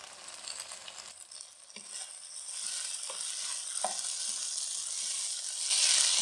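Tomatoes sizzling in a pan with chicken and vegetables, a steady frying hiss that swells louder near the end, broken by a few light scrapes and taps of a stirring spoon, no talking.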